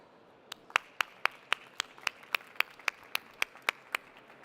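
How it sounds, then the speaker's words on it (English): A small audience claps for a speaker at a healthcare panel, roughly fifteen evenly spaced, crisp claps over a few seconds, sounding like a few pairs of hands rather than a full crowd. "A round of applause for Dr."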